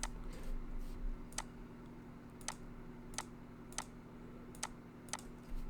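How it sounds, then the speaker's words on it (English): Keys on a computer keyboard are typed in sparse single clicks and short clusters, quiet and close over a steady low hum. "let me type that out, it's easier."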